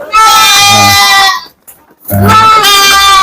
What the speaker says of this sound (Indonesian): ini kambing-kambing betina kita beserta dengan anaknya ini akan turun ya